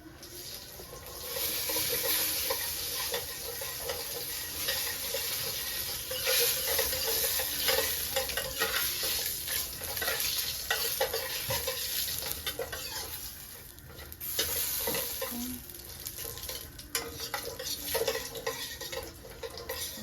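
Aniseed and other spices toasting and sizzling in a pan on the stove, with steady frying hiss and occasional scraping of a stirring utensil throughout, fairly close and continuous with no talk.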